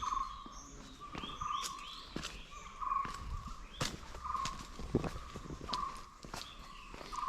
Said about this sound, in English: we are hearing the bird in the undergrowth